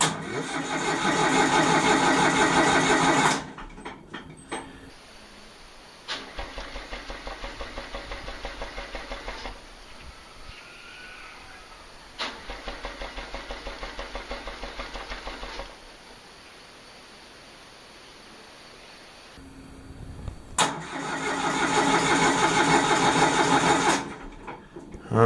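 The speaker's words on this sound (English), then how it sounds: "I will crank it a few times without starting it, without preheating it, to get the oil up in the engine." An old diesel generator engine, about 30 years old, cranks several times in bursts without catching, its starter grinding loudly and evenly, with quieter pauses between the attempts.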